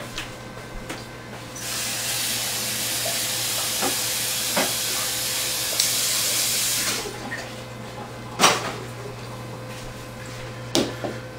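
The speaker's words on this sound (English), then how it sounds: "now I gotta rinse out my funnel" Water runs steadily from a tap to rinse out a homebrewing funnel at a sink, a continuous hiss lasting several seconds and then cutting off, followed by a couple of brief clunks.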